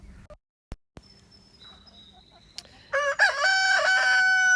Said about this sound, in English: there's Marianne Chicken